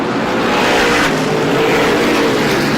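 Race cars lapping Star Speedway during an SBM 125 race, a loud continuous roar of several engines with a passing surge midway and no talking.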